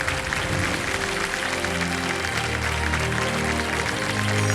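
Studio audience applause on the KBC game show set, welcoming the guest Kumar Mangalam Birla; a dense, steady wash of clapping under music, loud and continuous.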